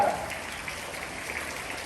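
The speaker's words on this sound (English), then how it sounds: "a big hand clap for our sir" Audience applause at a school investiture ceremony: a dense, steady patter of many hands clapping together, fairly soft and even throughout, with no voices over it.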